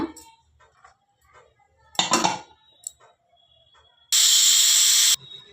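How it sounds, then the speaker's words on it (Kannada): A pressure cooker with sprouted gram curry lets out one loud, sharp, steady burst of hissing steam lasting about a second, after quieter clinks and kitchen clatter. "ಕುಕ್ಕರ್ ಮುಚ್ಚಿ 4 ವಿಸಿಲು ಬರ್ಸೋಣ"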